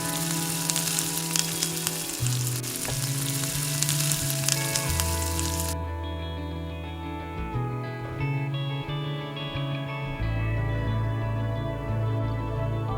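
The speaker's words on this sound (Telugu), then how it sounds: "ఇప్పుడు అదే కడాయిలో మనం కడిగి శుభ్రం చేసుకున్న గోంగూరని కొంచెం కొంచెంగా కడాయిలో పెట్టేసుకొని" Gongura leaves frying in a hot kadai give a dense, continuous sizzle that stays loud and close for the whole stretch, with tonal music playing underneath.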